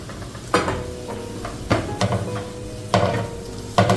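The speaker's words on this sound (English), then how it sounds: "Just adding some onions." Sliced onions frying in a pan for tuna cutlets, a steady sizzle broken by several sharp clatters of a spoon stirring against the pan, close and fairly loud.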